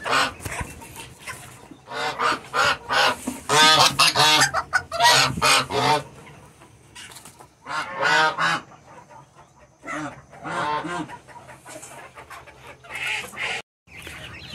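Domestic geese and other farmyard fowl honk and cackle at dusk on a small farm, a dense run of loud, close calls that thins into scattered honks with short pauses.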